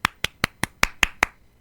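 Seven crisp, evenly spaced hand claps from a single pair of hands at a Spanish community gathering in Argentina, each clap loud and close, with short silent gaps between them.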